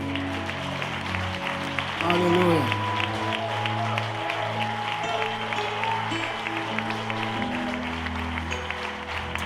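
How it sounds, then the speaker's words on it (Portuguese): A church congregation claps during a worship service while sustained keyboard and music tones play underneath, the clapping moderate and mixed into the music, with a voice briefly calling out in the middle. "Se você pode, dê um forte aplauso ao Senhor."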